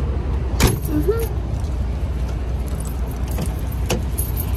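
Keys jangle briefly as they are handed over beside a parked truck at a truck stop in Georgia, a short metallic clink over steady engine and road noise.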